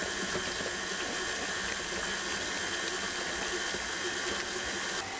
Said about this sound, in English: And I'll turn our mixer back on.